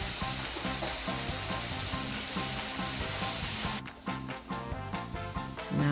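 Vegetables sizzle and fry in a pan for a spaghetti dish, a steady loud crackling hiss that eases into lighter spitting with a few stirring scrapes near the end, close by and with no voices.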